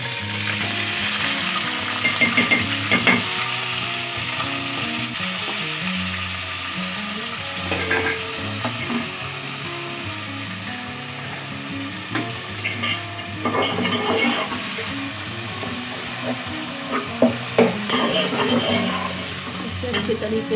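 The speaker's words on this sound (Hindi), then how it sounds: "इसे अच्छी तरीके से फ्राई करेंगे" Minced meat keema fries in a pan with a constant close sizzle, while a spoon stirs and scrapes in frequent bursts and clinks against the metal throughout.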